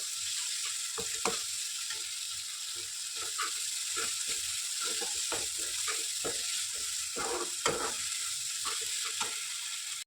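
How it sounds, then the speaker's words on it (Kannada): Masala frying in oil in a home kitchen, a steady soft sizzle with scattered scraping stirs and clicks, fairly quiet and continuous with no talking. "ಇದು ಸ್ವಲ್ಪ ಆಯಿಲ್ ಬಿಟ್ಕೊಳ್ಳೋ ತನಕ ಫ್ರೈ ಮಾಡ್ಕೊಳ್ಳಿ ಮಸಾಲ"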